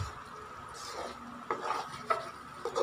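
A utensil stirs O'Dong noodles with sardines in a cooking pot, making soft scraping and light clinks that come in short bursts, quiet and close, with no talking.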